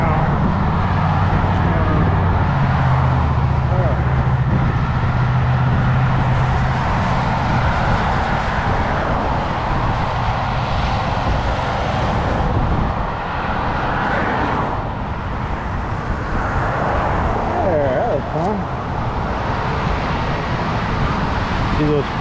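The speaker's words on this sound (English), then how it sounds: "We'll watch this group of cars come through." Several cars pass along a road one after another, a steady broadband traffic wash that swells and fades at moderate distance, with a low rumble throughout.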